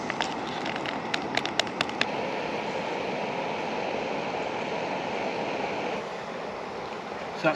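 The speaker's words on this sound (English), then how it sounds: "So that's boiling now." Water at a rolling boil in a small pot on a camp stove while wild camping, a steady rushing bubbling hiss that stays even throughout, with a few faint clicks near the start.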